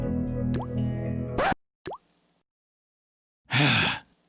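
Water drips from a leaking tap, a few distinct liquid plops with gaps of silence between them, close and clear, ending in a fuller splashing drop.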